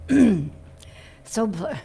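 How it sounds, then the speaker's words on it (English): A short, guttural throat clearing rasps out close by, followed a moment later by a second rougher clearing sound. "hang on a second while I clear my throat"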